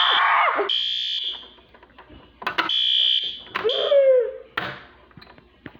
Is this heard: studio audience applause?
no